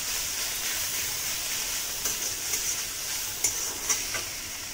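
Grated green chili and ginger are stirred in a hot frying pan for a vegetarian stuffed idli filling, giving a steady broadband sizzle with a few brief scraping strokes of a spoon near the end, close and moderately quiet with no talk.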